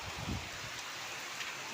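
Rain falls as a steady broadband hiss at low level, with a few low rumbles near the start and no speech.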